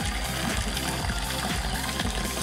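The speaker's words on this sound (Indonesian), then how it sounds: "tempat mandinya di air pancuran" Bathing water runs steadily from a spout in a village in Baduy, a continuous loud splashing trickle with no pauses and no voices.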